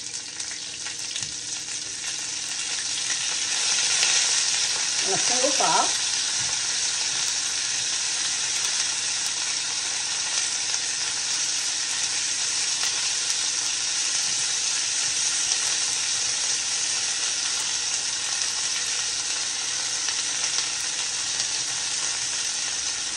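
Asparagus spears sizzle loudly on a hot grill pan, a dense, steady hiss and crackle that swells after being laid down and keeps going throughout, with a brief spoken remark early on.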